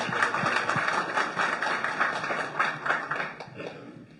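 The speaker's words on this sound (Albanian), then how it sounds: "A dua një duartrokitje nga ju?" Audience applause at a book launch ceremony, dense continuous clapping from a crowd that holds steady and then tapers slightly toward the end.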